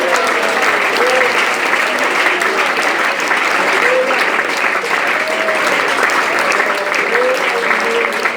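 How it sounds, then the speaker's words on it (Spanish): A church congregation applauding loudly and continuously for over eight seconds, a thick, even wash of many hands clapping, with voices faintly heard underneath. "Si ese aplauso es para Él, déselo más fuerte"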